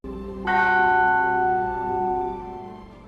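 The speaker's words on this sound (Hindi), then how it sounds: "उसी पल 1 घंटी बजती है" A single bell strikes and rings out with a rich, sustained tone that slowly fades over a few seconds.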